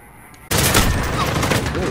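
M4 rifle fire in a first-person shooter video game, a sudden loud sustained burst of rapid automatic shots starting after a quiet moment and continuing densely to the end.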